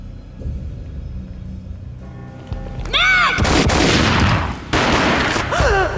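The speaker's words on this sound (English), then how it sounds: "A gunshot boomed and she fell down in slow motion." Gunfire in the 2001 video game Max Payne: loud, booming shots that build into a dense burst of firing, with sweeping whistle-like tones and a low rumble beneath.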